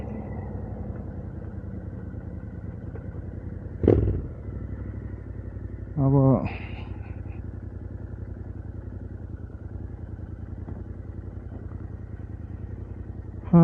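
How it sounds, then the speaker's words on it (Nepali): A Royal Enfield Interceptor 650 motorcycle rides along at road speed, its steady engine drone loud and continuous with a couple of brief clattering thumps, and a voice speaks a single word. "अगाडि आफ्नो बाइक जान्छ"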